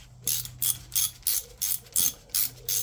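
A hand socket ratchet with a 10mm socket clicks in eight quick, evenly spaced bursts while undoing bolts on a Honda CB400T Dream motorcycle, close and fairly quiet against a low background hum.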